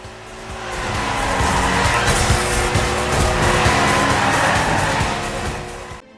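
Race cars in the video game Hotshot Racing roar steadily at close range with dense engine whine and a hint of tire squeal, sustained loud throughout with no talk.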